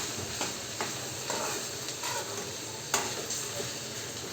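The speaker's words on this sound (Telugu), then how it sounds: "ఇక్కడ మా మమ్మీ అయితే మిక్స్ చేస్తుంది కొంచెం." Okra curry stirred in a hot pan gives a continuous sizzling hiss. Faint scraping strokes recur about every half second to second, with one sharper knock near the end.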